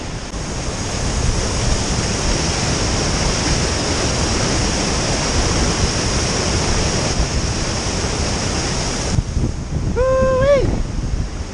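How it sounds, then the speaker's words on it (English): A loud, roaring rush of water pours continuously over a waterfall, close and powerful, with a few faint chirps near the end. "A rushing torrent of water. It sounds divine."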